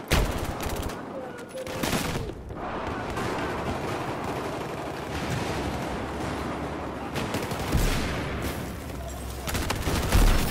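Gunfire in Battlefield 4 on the Operation Locker map, sustained bursts of automatic shots with short pauses, loud and close, with a voice talking over parts of it.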